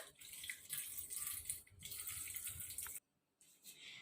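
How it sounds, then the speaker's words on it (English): Milk poured into a mixer jar of mango slices makes a steady liquid splashing and gurgling for about three seconds, close and soft, then stops, followed by a faint clunk. "Now I'm going to put some milk."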